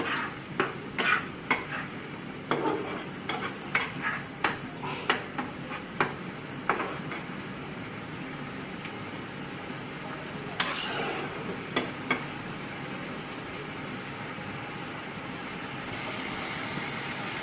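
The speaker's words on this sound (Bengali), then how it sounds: "চুলার জালটা কম করে দিয়ে এভাবে কষাবো।" Masala for a rohu fish curry sautés on low heat, a low steady sizzle punctuated by a series of sharp spatula scrapes and taps against the pan, which stop partway through.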